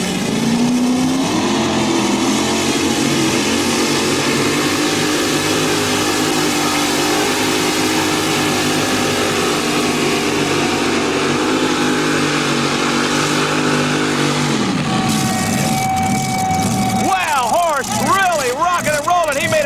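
A loud, sustained mini rod pulling tractor engine roars steadily for most of a full pull down the track, with a crowd and announcer talking over it, before the engine winds down near the end.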